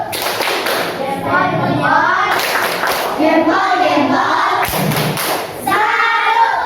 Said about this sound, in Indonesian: Tepuk salut untuk kelompok dokter